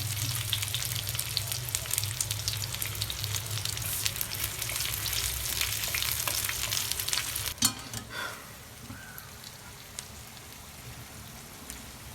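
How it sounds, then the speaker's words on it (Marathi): Onion fries in oil on an iron griddle with a loud, steady sizzle and scraping stirs, then the sound drops sharply to a quieter crackle near the end. "कांदा चांगला भाजून घ्यायचा आपल्याला."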